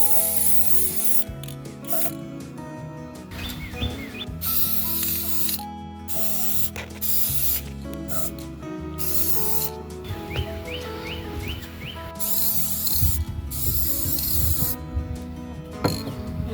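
Clear coat sprayed from an aerosol can onto a repaired solar light, heard as long hissing bursts broken by short pauses, with small clicks and rattles from the can between sprays.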